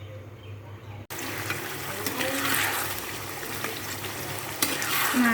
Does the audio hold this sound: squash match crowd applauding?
no